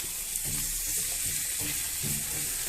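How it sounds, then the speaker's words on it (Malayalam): Onion, green chili, ginger, garlic and curry leaves sauté in hot oil for a potato bonda filling, giving a steady, moderate sizzle with faint stirring scrapes and no talk. "നമുക്കതിലേക്ക് സവാള, പച്ചമുളക്, ഇഞ്ചി, വെളുത്തുള്ളി, വേപ്പില ഇതെല്ലാം ഇട്ട് നന്നായിട്ടൊന്ന് വഴറ്റി കൊടുക്കാം"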